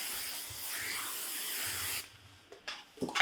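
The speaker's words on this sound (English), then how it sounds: "You're gonna give it just a little spray." Hairspray hisses steadily onto a child's hair during Disney princess styling, one continuous close spray lasting about two seconds before it stops, followed by soft handling sounds.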